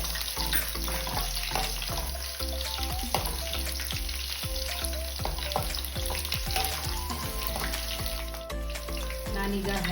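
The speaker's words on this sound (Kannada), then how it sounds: "ನಾನೀಗ ಬೆಳ್ಳುಳ್ಳಿ ಹಾಕ್ತಾ ಇದ್ದೇನೆ. ಒಂದು 6 ರಿಂದ 7 ಬೆಳ್ಳುಳ್ಳಿ ತಗೊಂಡಿದ್ದೀನಿ. ಅದನ್ನು ಚೆನ್ನಾಗಿ ಫ್ರೈ ಮಾಡ್ಕೋಬೇಕು." Six or seven garlic cloves fry in a pan for a Coorg-style mango gravy with a strong, continuous sizzle, punctuated by repeated scraping and clinking of a spoon stirring, close and busy throughout, with no talking.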